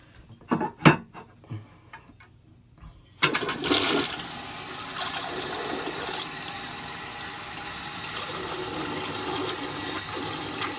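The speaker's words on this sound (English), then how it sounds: "And before I end the video, I'm going to give it another flush." Flush of a 1981 Briggs Conserver toilet: a few faint clicks and handle knocks, then a sudden loud rush of water at about three seconds that settles into steady draining and refilling to the end, close by with no talking.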